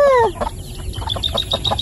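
A mother hen clucking on a rural Philippine farm, a rapid run of short repeated clucks close by after an opening squawk, loud and alone.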